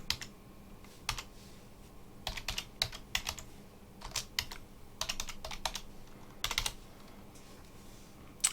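Typing on a computer keyboard, close and clear, with irregular bursts of quick key clicks separated by short pauses, no talking.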